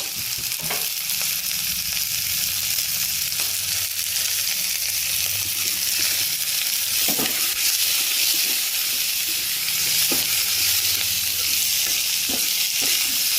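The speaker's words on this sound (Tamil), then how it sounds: "10 பச்சை மிளகா போட்டிருக்கேன். இது நல்லா இதோட வதங்கட்டும்." Steady sizzling of ginger and green chillies frying in a hot pan, with occasional sharp clicks of a spoon stirring, continuous and fairly close.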